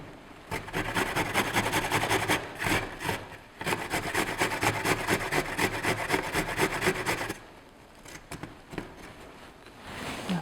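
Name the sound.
grating a root by hand on a grater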